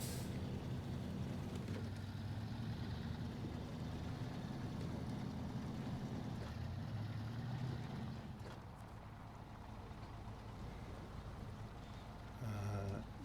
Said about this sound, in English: Leaving all-wheel drive on because we are driving through some muddy, sticky mess